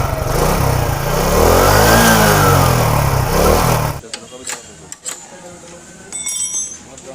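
A Honda CD80 motorcycle engine runs loudly and revs for about four seconds, its pitch rising and falling, then stops, leaving faint clinks and scattered handling noises.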